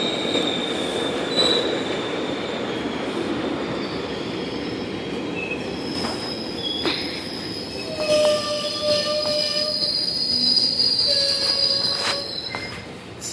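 A 12-car subway train rolls through Danforth station with a steady rumble, its wheels squealing in high, sustained pitched tones that rise and fade over the passing.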